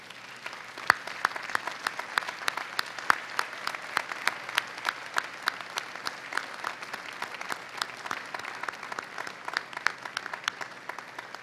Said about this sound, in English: give them a round of applause for the love and support that made this day possible